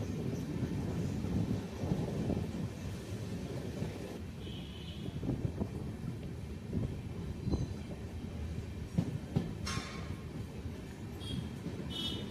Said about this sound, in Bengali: ট্রেনটা এত স্লো, এত ভোগাচ্ছে।